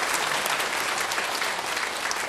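A church congregation at Daejeon Jungmun Church breaks into loud, sustained applause, many hands clapping in a thick continuous roar that stays even throughout with no voices over it.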